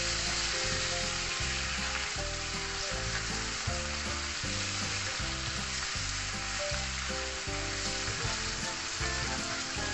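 Chicken and long beans frying in hot oil for a stir fry, a loud, steady sizzle with rhythmic stirring scrapes throughout, no talking.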